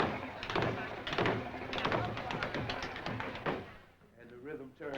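Tap shoes strike out a fast cramp roll, rapid bursts of toe and heel beats repeating in clusters over a noisy room background, loud and close before trailing off.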